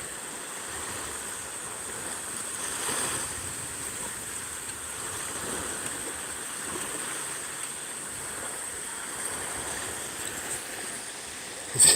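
Water waves wash and rush in a steady, broad hiss that continues throughout, with gentle swells in loudness and no voices.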